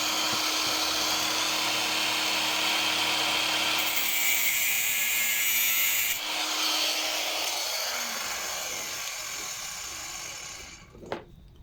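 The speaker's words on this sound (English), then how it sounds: "So the same thing, I'm using angle grinder to cut it." An angle grinder cuts through a lawnmower cable on a mower with a Briggs & Stratton 500E Series engine, a steady loud high whine that holds for several seconds, then runs down and fades, ending with a brief clack.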